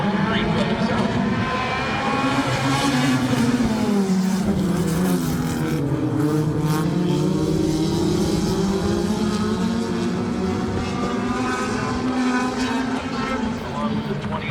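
Several 4-cylinder Super Stocks race cars roar off at the green flag of a rainy-night short-track race, engines droning steadily loud with shifting pitch throughout, under continuous announcer commentary.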